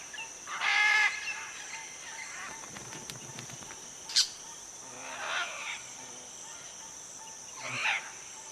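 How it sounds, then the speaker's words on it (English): Crimson-fronted parakeets in an almendro tree give a few harsh, scratchy calls spaced several seconds apart, moderately distant over a faint constant insect drone, with no voices. "A pair of crimson-fronted parakeets are setting up home next door to the macaws."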